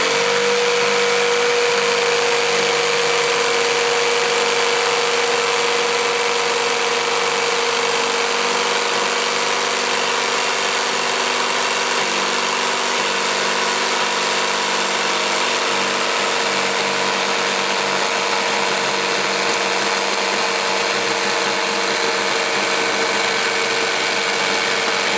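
Power saw with a new blade cutting model platform material for an N gauge layout, a continuous steady buzzing whine held at even loudness throughout, close and with no talk.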